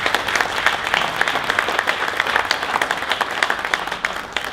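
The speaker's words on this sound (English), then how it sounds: "let's give them a round of applause for me" A crowd of spectators applauds the production Corvette racing team at the 12 Hours of Sebring, a dense, continuous wash of clapping at steady loudness throughout.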